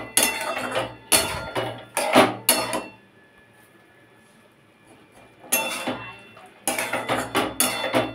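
Fried lentil dumplings and jukti flowers are stirred in a pan, giving bursts of metallic scraping and clinking from a utensil against the pan, separated by a quiet pause.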